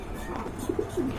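Lahori pigeons give a few short, soft coos against a noisy, hissing background, heard briefly at close range.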